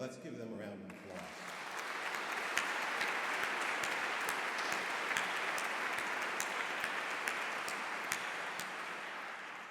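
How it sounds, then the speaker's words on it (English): A conference audience at an opening plenary breaks into sustained, even applause that fills the room for several seconds, steady and moderately distant with no talk over it. "Let's give them a round of applause."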